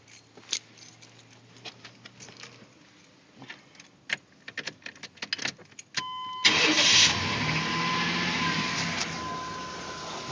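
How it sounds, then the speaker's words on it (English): Car engine starting after an air cleaner reassembly and top-end cleaning: scattered clicks and clunks first, then the starter cranks and the engine catches into a loud, steady close-up idle. "And now we're going to start the car."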